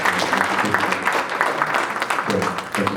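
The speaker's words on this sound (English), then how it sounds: "I'd like to give a round of applause for Qualcomm." An audience at a MobileMonday tech event claps for a sponsor, dense steady applause filling the room at close range, with some speech mixed in under it.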